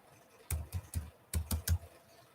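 Two short bursts of computer keyboard typing, three quick keystrokes each, close and distinct with a brief pause between groups.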